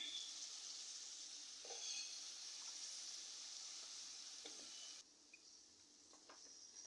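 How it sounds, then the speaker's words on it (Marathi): Ivy gourd going into a sizzling tempering in a pan, a quiet, steady hiss that drops and softens partway through, with faint stirring clicks. "मी भाजी फोड पाणी काढून भाजी फोडणीला घालणार आहे"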